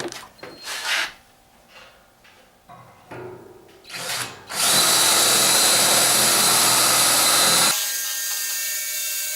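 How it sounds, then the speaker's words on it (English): Power drill boring a hole, starting with a few short bursts and then running steadily and loudly for about three seconds before stopping, with a quieter whir trailing off afterward. "now I got to get this hole drilled"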